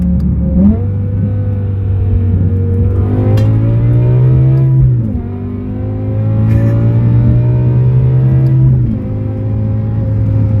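A BMW E63 M6 in M mode pulls hard, its engine climbing steadily in loud rising sweeps with two quick shift dips before winding up again, heard from inside the cabin.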